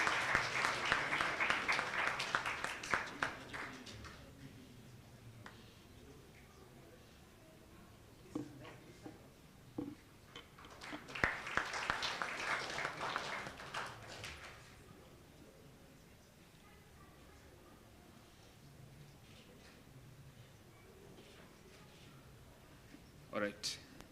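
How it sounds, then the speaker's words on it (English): Audience at an interventional cardiology congress clapping in two sustained rounds of applause with quieter stretches between, mid-distance in a hall, with a voice speaking over parts of it. "We can continue clapping, you should not get tired."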